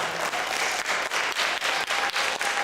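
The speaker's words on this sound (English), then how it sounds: "Let's give them a round of applause." Steady applause from a crowd, dense clapping that carries evenly throughout with slight pulsing swells, no voices standing out.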